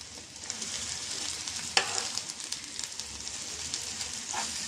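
An egg fries in a pan on a home stove, giving a steady close sizzle with a sharp scrape as it is turned over partway through.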